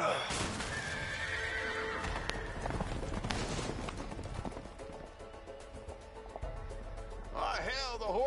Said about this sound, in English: Oh, hell, the horses are escaping